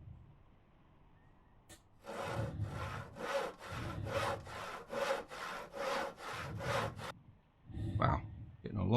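Wood logs being sawn in the survival video game Stars End, with a hacksaw-like tool making about a dozen quick, rhythmic rasping back-and-forth strokes, close and fairly loud, followed by a brief clatter.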